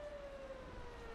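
A fire truck siren wails as one steady, slowly falling tone, loud and continuous over a busy street hum, with no talk.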